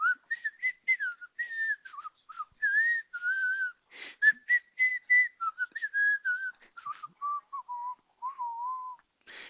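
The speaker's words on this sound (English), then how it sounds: "or I can whistle like this" Someone whistles a quick, chirpy melody of many short notes close up, a lively run that slides lower toward the end.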